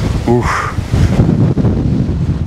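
Strong wind buffets the microphone on the beach at Anapa by the sea, a steady loud roar throughout with a brief exclamation from a voice near the start.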